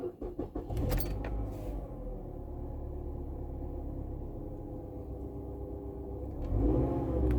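A car engine is started and revved, with a short jangle of keys and cranking at first, then a steady idle rumble that swells into a louder rev near the end.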